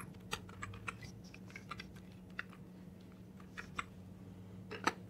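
Light typing on a computer keyboard as an address is entered in a web browser, with scattered, irregular key clicks over a faint steady hum, close and quiet.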